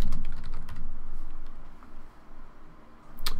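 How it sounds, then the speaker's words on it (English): Typing on a computer keyboard while working on a social media design, a brief run of close, light key clicks that thins out midway and picks up again near the end. "If I could type, it makes it easier."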